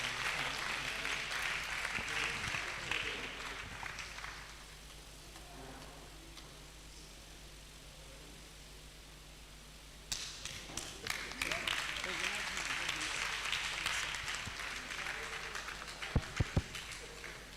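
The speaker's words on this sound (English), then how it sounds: "A round of applause for him, please." Audience applause at a Chartered Institute of Professional Secretarial Staff of Nigeria conference, a moderate clapping wash that fades into a quieter stretch before a second round of scattered, closer claps with some background voices.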